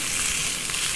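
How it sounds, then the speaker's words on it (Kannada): Semolina-coated fish fries in oil on a tawa, giving a steady, close, hissing sizzle with no talk over it. "ಹೆಂಚಿನ ಮೇಲೆ ಹಾಕ್ಕೊಳ್ಳಿ, ಫ್ರೈ ಆಗಲಿ ಸ್ವಲ್ಪ."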